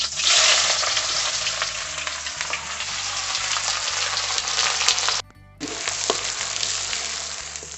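Chopped onion fries in hot oil for a chicken curry, giving a loud, continuous crackling sizzle that cuts out for a split second, then resumes just as strongly over a faint low hum.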